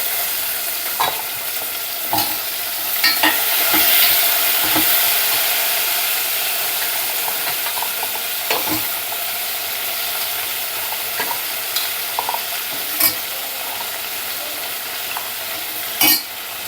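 Drumstick (moringa) pieces are stirred into a hot tempering for curry. The oil sizzles and hisses continuously, broken by repeated sharp scrapes and clinks of the ladle against the pan.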